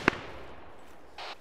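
A single sharp gunshot from the ARMA 3 military shooter game rings out near the start, followed by a softer burst of noise a second later, over low background game ambience.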